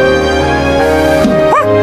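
A small dog gives short yips and whimpering whines, close up, over a steady background hum.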